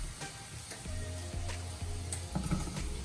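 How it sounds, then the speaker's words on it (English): Asparagus sautés with garlic, red pepper flakes, salt and pepper in a hot pan, a soft steady sizzle with a few light stirring clicks, quiet and close. "Add in your asparagus and saute."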